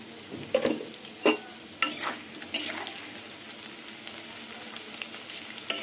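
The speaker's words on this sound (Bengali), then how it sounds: "আলু আর একটু ভাজা হবে" Potatoes frying in oil in a covered pan over low gas, a steady sizzle with several sharp stirring scrapes and clatters early on, with no talk.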